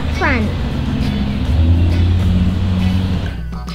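A vehicle engine drones steadily as a truck drives along in a Playmobil toy story sound effect, a loud continuous rumble that swells briefly and fades near the end.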